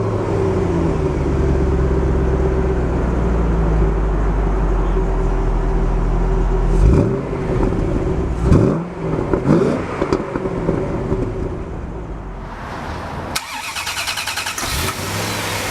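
1994 Chevrolet Corvette ZR-1 V8 running up close, a loud steady rumbling idle broken by a few sharp throttle blips that rise and fall, then a shift to a higher, harsher rush near the end.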